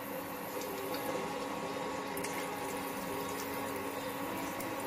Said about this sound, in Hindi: अब मैं इसमें और पानी डालूंगी।